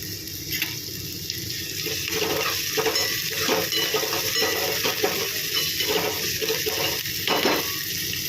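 Onion and curry leaves fry in a pan with a steady, close sizzle and crackle, bursts of hissing rising and falling as a person speaks softly over it.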